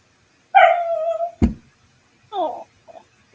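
A puppy lets out a few short, close yips and barks, one drawn into a brief whine, with quiet gaps between them and no other sound.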